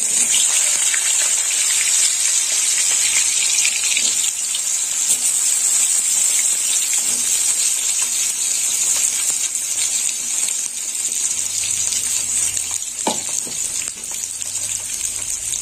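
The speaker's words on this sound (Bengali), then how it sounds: "তেল গরম হয়ে গেছে, তো তেলের মধ্যে আমি বেগুনগুলো দিয়ে দেবো আগে।" Eggplant pieces dropped into hot oil for a Bengali shukto with helencha greens, giving a loud, steady hiss of frying that runs without a break, with a faint clink near the end.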